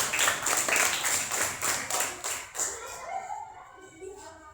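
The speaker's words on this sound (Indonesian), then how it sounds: "Ya, tepuk tangan buat Teteh Paiza." A classroom of students claps for a classmate: a burst of quick, dense hand claps that thins out and fades after about three seconds, with some voices underneath.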